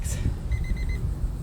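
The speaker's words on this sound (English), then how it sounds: "a kitchen timer" A small kitchen timer beeps in a short run of quick, faint electronic pips over a low, steady background rumble in a home workout space.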